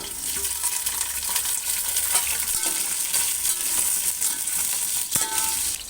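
Cut potatoes and pumpkin sizzle steadily in a hot pan for khichuri with coriander and black cumin seed tempering, with scraping stirring noises and a few sharp clinks throughout, close and fairly loud, no talking.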